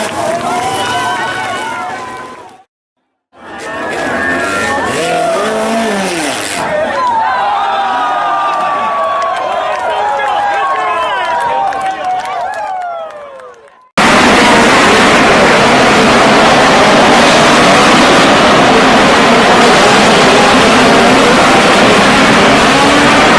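NASCAR stock cars in a big wreck near the finish of a 2017 race: loud roaring engines and scraping, tumbling impact noise, then a dense wash of crowd and track roar, with a commentator talking over it.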